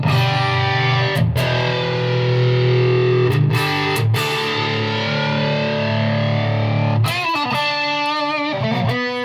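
A sustained distorted guitar chord sweeps with a swirling, jet-like flanger from a Vortex Flanger pedal with a varied LFO setting, a few strums breaking the steady, loud tone.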